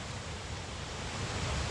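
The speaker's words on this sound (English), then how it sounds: "The creek still flows." A creek running quickly after heavy rain, a continuous broadband rush of flowing water with no pauses and no voices, holding steady and filling the whole stretch.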